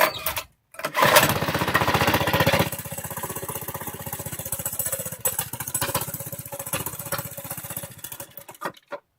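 A Motovox minibike engine sputters to life after a brief silence, then runs with a steady fast putter at close range, loud and rough with uneven choke-on surges and dips throughout.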